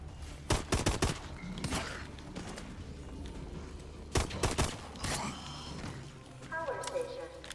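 Call of Duty Exo Zombies gunshots come as sharp, loud pairs and short clusters separated by quieter stretches, with game sounds and a voice talking in between.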